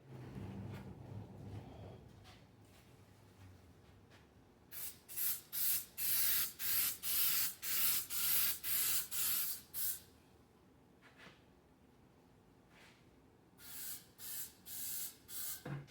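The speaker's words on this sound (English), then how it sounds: "Now I'm gonna use some 3M Super 77 and just spray this, spray the inside of the box" 3M Super 77 spray adhesive hisses inside a subwoofer box in a series of short, loud, close bursts, first one long run of about ten sprays, then a pause, then a few more.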